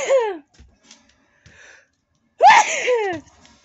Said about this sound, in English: Sneeze my ass off.